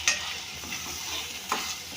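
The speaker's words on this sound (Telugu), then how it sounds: "రొయ్యలు వేసుకున్నాక బాగా కలపెట్టుకోవాలి" Prawns stirred in a hot frying pan for an Andhra-style prawn egg curry, a steady close sizzle with two sharper scraping stirs of the spoon, one at the start and one midway.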